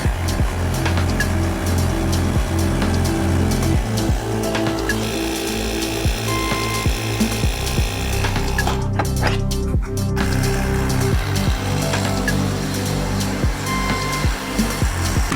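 A Ryobi 18V cordless tire inflator runs continuously while filling an 18-inch tire, giving a loud, close, steady motorized drone with a pulsing compressor rhythm and a brief dip partway through.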